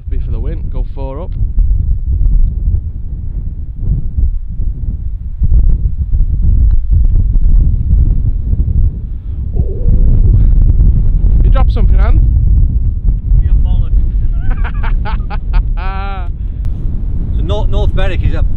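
Strong wind buffets the microphone on a seaside golf course at North Berwick, a constant heavy low roar that runs throughout while people talk over it.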